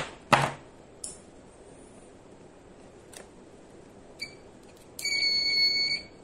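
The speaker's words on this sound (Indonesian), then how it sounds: "Ini saya dengan buzzer ya." A harsh electronic buzzer sounds during a circuit test, a steady tone with high harmonics lasting about a second near the end, after a few faint clicks and a short sharp burst at the start.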